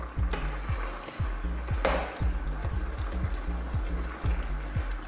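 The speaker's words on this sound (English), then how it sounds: "Let's stir it." Pork ribs adobo in coconut milk bubbles and sizzles in a pot while a spoon stirs it, with low rhythmic sloshing pulses and a few sharp scrapes and knocks against the pan.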